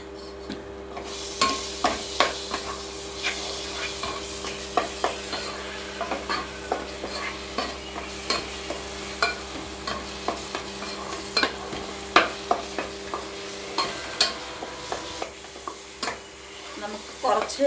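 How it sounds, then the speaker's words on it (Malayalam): Mango coconut ladoo mixture with ghee stirred and sautéed in a pan over the flame, a steady low sizzle broken by repeated scraping strokes of the spoon, close and moderately loud with no talking. "ഫ്ലെയിമിൽ നന്നായിട്ടൊന്ന് ഇതൊന്ന് വഴറ്റിയെടുക്കണം."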